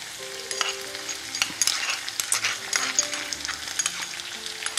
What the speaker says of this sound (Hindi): अब हम इसको मिक्स करेंगे, थोड़ा सा पकाएंगे चिली गार्लिक को